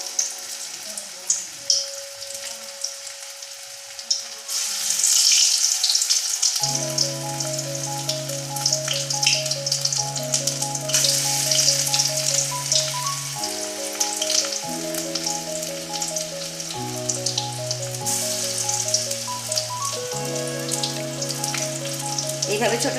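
Mint leaves crisping in hot oil, a steady close sizzle and crackle that runs throughout, with a melodic background tune playing alongside.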